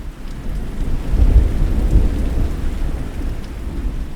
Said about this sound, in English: A heavy rainstorm rolled in unexpectedly, forcing me to find shelter fast.